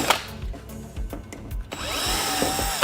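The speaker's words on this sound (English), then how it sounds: "We're gonna need our drill now." Power drill used while removing a broken wall-mount unit, with short bursts of tool noise and knocks, then a sustained whirring spin-up near the end, close and loud.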